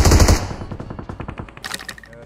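Rapid automatic gunfire from a PUBG battle royale match on the Erangle map, a loud sustained burst of closely spaced shots that quickly trails off, with a few fainter shots following.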